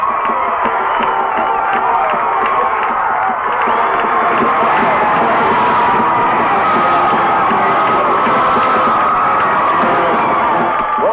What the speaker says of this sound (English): as you can hear the crowd of Bulldog fans outside this press box, it is pandemonium here right now